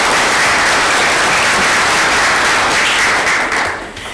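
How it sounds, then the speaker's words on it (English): Sustained audience applause at a panel event, dense and loud clapping from a crowd that holds steady before tapering off at the end. "So we need to give David a round of applause for his."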